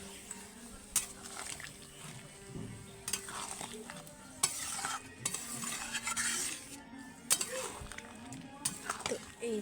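Meat simmering in a pot with hot water sizzles while a utensil stirs and clinks against the metal in irregular bursts, with some background noise and occasional voices.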